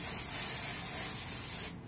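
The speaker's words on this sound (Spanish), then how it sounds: "Es un spray, si ustedes lo ven, miren." TRESemmé hair spray hisses from an aerosol can in one continuous, steady, close burst that lasts almost two seconds before cutting off.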